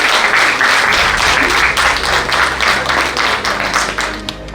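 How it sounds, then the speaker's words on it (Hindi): An award ceremony audience bursts into loud, rhythmic applause, with many hands clapping strongly together and a steady hum underneath, before it tapers off at the end. "जोरदार तालियों से स्वागत कीजिए।"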